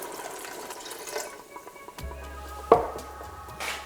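Vegetable broth poured into a cooking pot for a red lentil dal, a soft liquid stream and splashing that rises in the second half, with a brief clink partway through.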